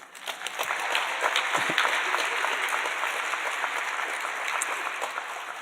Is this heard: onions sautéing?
no